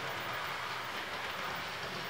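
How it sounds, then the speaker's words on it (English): The Rocky Mountaineer passenger train, number 609 westbound, rushes past at speed, a steady broad rumble and hiss of wheels on rail that holds constant and fairly faint throughout. "as you'll see on the clip of the real train"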